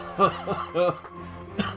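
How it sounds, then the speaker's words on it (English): A person coughs a few times close to the microphone, short harsh bursts spaced apart with quiet gaps between. "sorry for the cough"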